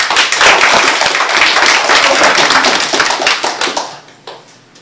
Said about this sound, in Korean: 우리 시간 그분을 위해서 우리 박수 한번 하십시오.